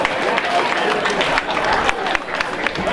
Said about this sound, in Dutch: En allereerst een groot applaus